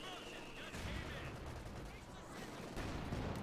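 Gunfire and heavy mortar-style blasts from a Company of Heroes 2 battle, with a dense, steady clatter of shots and impacts that sounds close and loud and runs through the whole stretch, and a voice talks faintly underneath.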